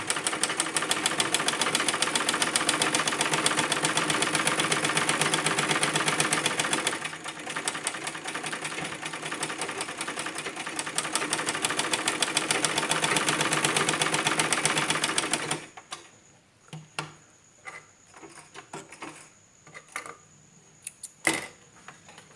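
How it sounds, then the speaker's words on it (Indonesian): Sewing machine stitching two rows of seams, a loud fast rattling run that pauses briefly midway, resumes, then stops into a few scattered clicks and taps. "setelah itu kita coba jahit untuk dua baris jalur"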